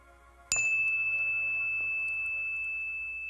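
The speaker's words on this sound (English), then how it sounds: "As the sound of this bell fades into the cosmos" A single bell strikes once with a bright, clear tone, then rings on steadily and slowly fades in near silence.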